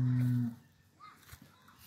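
A calf lows once, loud and close, with a long drawn-out moo at the start, then only quiet farmyard ambience follows in a village barrio with livestock around.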